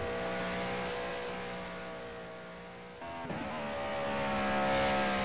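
Race car lapping Monza, running through Lesmo 2, the banking and Ascari, engine revving at high pitch with a gear change midway and rising pitch again, loud and close with no talk.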